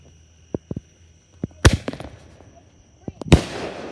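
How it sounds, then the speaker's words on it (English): Fireworks go off at a birthday fireworks show outdoors: a few sharp pops and crackles, then two loud booming bursts with crackling tails, heard alone without talk. "right now fireworks are shooting off"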